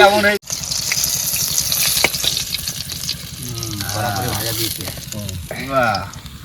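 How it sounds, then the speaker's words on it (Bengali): Fish frying in hot oil at an outdoor picnic gives a steady sizzle throughout, with voices talking over it in the second half. "মাছ ভাজা হয়েছে কড়া ভাজা"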